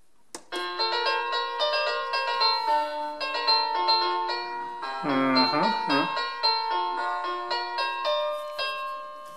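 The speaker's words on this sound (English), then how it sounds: "Ah, ding dong." A doorbell chime rings out a sequence of clear, sustained musical tones, near and moderately loud. The notes overlap and decay, and a brief burst of other sound cuts in midway.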